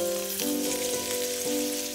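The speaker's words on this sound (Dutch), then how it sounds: "We kruiden onze scampi's en bakken ze op een hoog vuur in olie." Steady, close sizzling of seasoned scampi frying in hot oil over high heat, a dense crackle with no voices.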